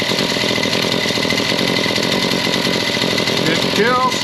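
A small engine idling in a repair shop, a loud, close, steady buzzing rattle with even rhythm, ending with a short rising whine as the throttle is touched.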